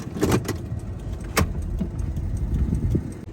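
Irregular clicks and knocks come from a CNG truck while it is being driven, a few sharp ticks spaced over a low rumbling cab and road noise.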